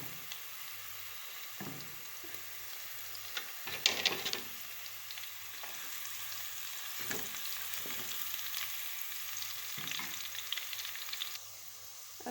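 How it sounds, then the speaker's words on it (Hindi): Garlic added to browned onions sizzles and fries in a pan for lentil and minced meat cooking, a steady soft crackle with occasional louder spits and stirring scrapes, close by. "ये लहसुन डालूँगी।"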